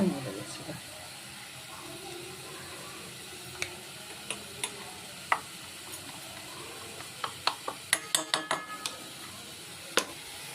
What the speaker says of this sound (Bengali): এবার মশলাটা দিয়ে ভালো করে কষাবো।